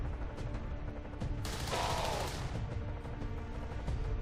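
Gunfire in the strategy video game XCOM 2, a loud burst of shots lasting about a second over a steady bed of game music and ambience.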